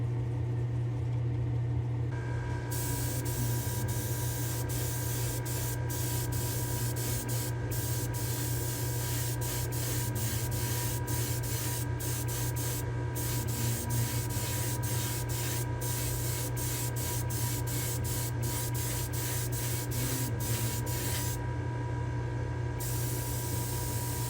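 White paint from a spray gun hisses steadily inside a spray booth, a continuous close airy spray broken by brief pauses, over a constant low mechanical hum.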